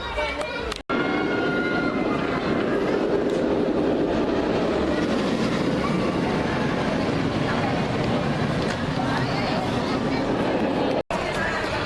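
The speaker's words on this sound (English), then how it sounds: "So let's go for a ride on this fantastic trackless dark ride." Ride vehicle of the Street Mission trackless dark ride at PortAventura, a continuous loud rumbling roll with mechanical rattle and busy ambient show sound, voices mixed in, cut by brief dropouts.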